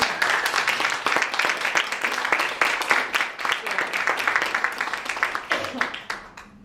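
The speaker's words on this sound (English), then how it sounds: "Want to give these guys a round of applause?" A design seminar audience gives a round of applause, with steady, moderately loud clapping of uneven rhythm and a voice speaking over it.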